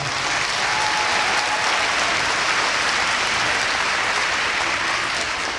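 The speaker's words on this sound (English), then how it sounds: "give it a round of applause" A crowd at an arena figure-skating charity event applauds a local skating club, a loud, sustained, even roar of clapping from many hands that holds steady throughout with no speech over it.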